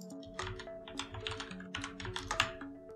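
Quick, close keystrokes on a computer keyboard tap out a value in an irregular run of soft clicks, quiet and alone.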